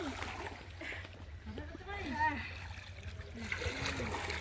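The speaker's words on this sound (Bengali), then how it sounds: "ওরা সূর্যকুণ্ডতে এসে স্নান করছে দেখুন।" People bathing in the Surya Kund pond make light splashes and sloshing water, under nearly continuous voices talking nearby.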